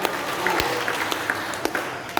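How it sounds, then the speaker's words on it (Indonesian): Fairly faint, scattered applause from a congregation at a Nainggolan and Siregar clan New Year worship gathering, with a few sharper claps standing out from a soft, steady patter. "Tepuk tangan buat kita semua."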